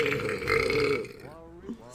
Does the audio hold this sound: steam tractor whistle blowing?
no